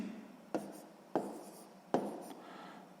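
A pen scratches out a division on paper in a few short strokes, each starting with a sharp tap and trailing off, close and quiet with no voices.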